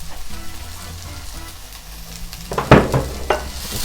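Spices being stirred into softened vegetables in a hot pan, a quiet low hum giving way to bursts of sizzling and spoon scraping in the final second and a half, with no voices.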